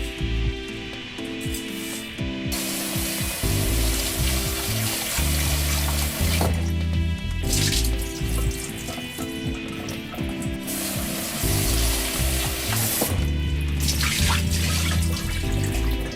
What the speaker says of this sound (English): Now I'm going to rinse about a cup of rice until the water runs clear